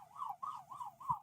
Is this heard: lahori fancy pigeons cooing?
no